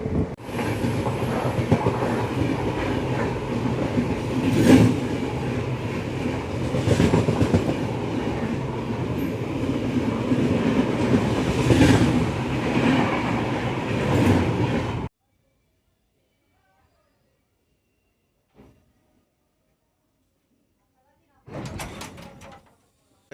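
The Kaveri Express passenger train running on rails, a loud steady rumble and rattle of wheels and carriages heard from on board for about fifteen seconds, then near silence broken by a brief clank and a short burst of rumbling.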